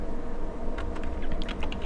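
Quick, light keystrokes on a computer keyboard tap in an irregular cluster, close and fairly soft over a steady background hiss, with no talking.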